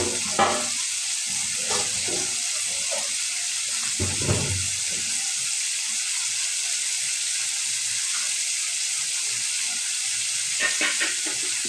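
Boiled potatoes fry in a pan of duck egg curry with tomato, a steady close sizzle broken by occasional stirring scrapes and clatter.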